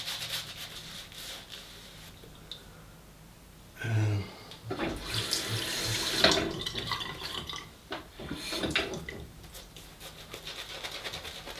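Water running from a tap while shaving, a quiet start giving way to splashing and trickling flow with rubbing sounds, in bursts that rise and fall over several seconds.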